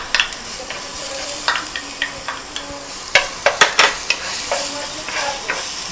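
Garlic sizzles steadily in a hot pan while a utensil stirs it, with a series of sharp scraping taps against the pan over the continuous frying hiss.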